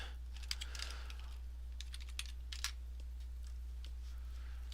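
Keys tapped on a computer keyboard, short uneven runs of crisp clicks spread over several seconds, close to the microphone in an otherwise quiet room with no speech.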